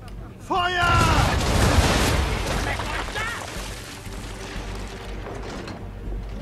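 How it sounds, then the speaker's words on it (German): Ship cannons fire a broadside in a video game, a heavy rolling boom that swells and lingers for several seconds with scattered crackling reports, then fades into a low rumble. "Auf das Heck des Wracks zielen, Z erhalten und los, um die Kanonen abzufeuern."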